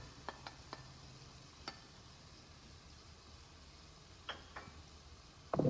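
Tomatoes, chillies and garlic with spices stirred and frying in a pan for a dhaba-style mixed dal, a low steady sizzle under scattered clicks and scrapes of the spoon against the pan.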